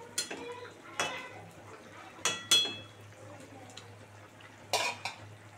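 Metal clanks and taps sound several times over a low sizzle of shol fish frying in a pan, as a lid is set down over it.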